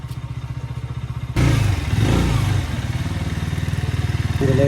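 A motorcycle is ridden on a road, its engine putting out a steady close rhythmic throb that swells into a louder rushing roar partway through, then settles back to the pulsing idle-like beat.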